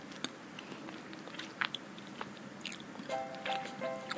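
Someone eating Oreo cake topped with ice cream, with soft, close chewing and a few crisp bite crunches spread through the quiet clip; faint voiced sounds near the end.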